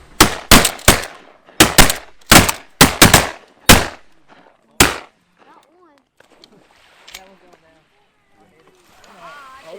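Shotguns fire during a youth duck hunt, about eight loud, sharp blasts in quick succession over roughly five seconds, followed by quieter outdoor sounds and faint voices.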